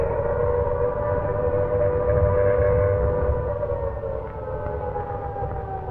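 An air raid siren over World War II London wails steadily, a loud sustained droning tone with layered harmonics over low rumbling noise that eases slightly toward the end.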